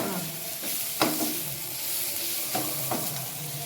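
Ginger garlic paste frying in a pan for kadalai curry, a steady sizzle with a few sharp stirring scrapes and clinks of a spoon against the pan, close and fairly loud.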